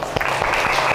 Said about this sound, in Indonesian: Beri aplaus dulu untuk kelompok pisang